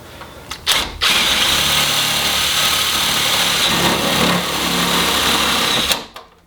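Power driver running self-tapping sheet metal screws into the body of a 1997 Camaro, a steady high-pitched whirring drive lasting about five seconds, loud and close, with a short burst just before it and no talking.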